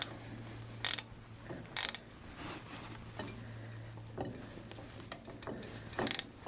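A ratchet and socket tighten a bolt on a Farmall 140 cultivator arm, sounding as a few separate close bursts of rapid clicking with quieter handling noise and a low hum between them.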